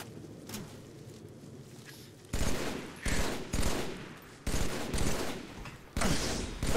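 Gunfire in the Halo 3 video game, several loud bursts of rapid automatic fire about a second long, separated by short gaps, over quieter background game noise.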